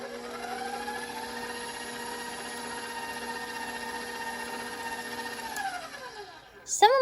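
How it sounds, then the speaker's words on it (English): An electric mixer runs on its lowest speed through blueberry muffin batter with a steady, even motor whine. Near the end it winds down and stops, followed by a brief clatter. "I'm going to start my mixer on the lowest setting so no dry ingredients fly out of it"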